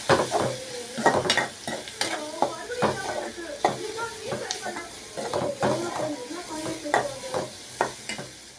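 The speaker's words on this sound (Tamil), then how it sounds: "வெங்காயம் நல்லா வதங்க கொஞ்சம் மிளகாத்தூள் போட்டுக்கலாம்" Onions frying in a pan with chili powder, being stirred for a drumstick stir-fry, with a steady sizzle under repeated scraping stirs and clinks of the spoon against the pan.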